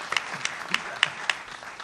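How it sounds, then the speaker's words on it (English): Brief scattered applause for a panelist at a 2006 Illinois elections panel, a handful of sharp individual claps at uneven intervals, fairly close and thin. "how about a round of applause for Kent Redfield"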